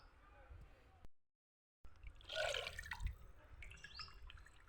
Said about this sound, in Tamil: அதே மாதிரி கொஞ்சமாக ஊற்றுங்க, கீழே சிந்தி போகாமல் வேஸ்ட்டாக போகாமல் ஊற்றுங்க